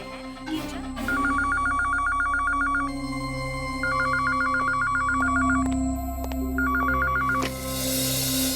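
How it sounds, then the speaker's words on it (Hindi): An office telephone rings in repeated electronic trilling bursts, three rounds with pauses between them, amid a police-station scene with background music and ambient hum. "सर आपका फोन।"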